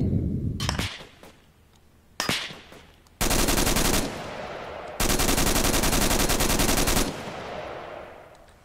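Video game battle gunfire: scattered single shots first, then long sustained bursts of loud automatic fire with brief pauses between volleys, fading at the end.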